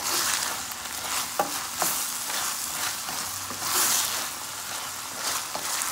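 Ground turkey fries in a pan with a splash of sauce, steady bright sizzling broken by a few scraping stirs and utensil taps, close and without talk.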